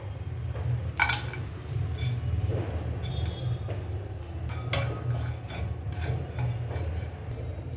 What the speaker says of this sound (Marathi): आता आपण खोबरं आणि तीळ भाजून घेऊया.